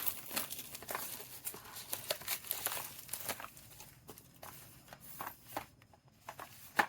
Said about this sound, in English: let's remove the plastic cover here